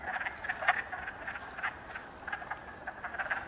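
Wood frogs calling in a spring woodland, a dense chorus of short duck-like clucking croaks repeating irregularly at moderate distance, with no voices.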